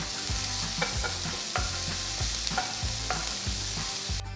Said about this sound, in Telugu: చిన్నగా తరిగిన మూడు పచ్చిమిరపకాయలు వేసి అంతా బాగా కలపాలి